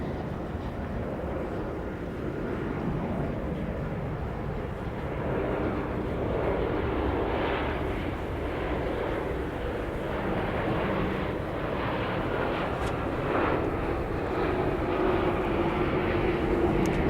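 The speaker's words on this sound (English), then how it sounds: "reversers out. Arrival from Fort Lauderdale." An airliner arriving from Fort Lauderdale lands at Dallas Love Field and deploys its thrust reversers, a sustained distant jet rumble that swells slightly toward the end, with no talk.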